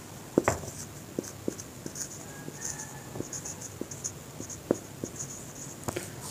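Marker or chalk taps and short scratchy strokes on a board during a class 9 biology lecture, a sparse irregular series of quiet clicks and squeaks in a calm room.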